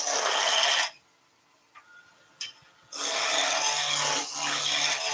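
A wood lathe skims a turned workpiece of about 30 mm diameter down toward a cylinder: a loud, dense cutting hiss, then a quiet gap of about two seconds with a few small clicks, then the cutting noise returns.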